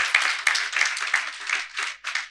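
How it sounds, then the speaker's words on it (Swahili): A church congregation claps together, a steady run of sharp, bright claps lasting a couple of seconds, loud and close, with no talking over it. "Hebu tupigie makofi Yesu wetu."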